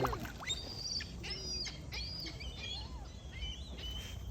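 Several birds at a pond in Laval, Canada chirp and tweet in quick, overlapping calls against a faint outdoor background, moderately distant.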